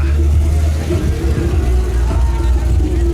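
Holden Commodore SS pulling in at an outdoor car show, its engine a deep, close rumble that swells slightly as it rolls past, with someone speaking over it.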